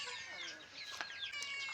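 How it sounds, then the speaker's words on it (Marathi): Close, brief clucking from a free-range village rooster in the evening, a few sharp calls standing out above a low background hum. "चुलीवरचा एक कोंबडा आहे"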